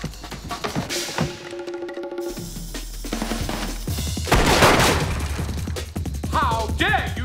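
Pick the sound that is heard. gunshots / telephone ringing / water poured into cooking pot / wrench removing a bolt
gunshots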